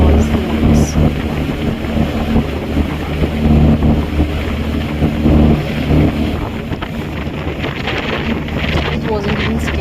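A large passenger boat carrying over 300 people speeds across the sea near Phuket and Krabi, Thailand, producing a loud, steady engine drone with rushing water and wind buffeting the microphone, while people talk faintly underneath.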